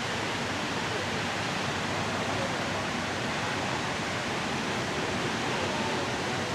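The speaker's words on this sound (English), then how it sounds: "the waterfall gets a lot bigger" A large Oregon waterfall roars in a steady, dense wash of falling water, loud and unbroken throughout with no other sounds on top.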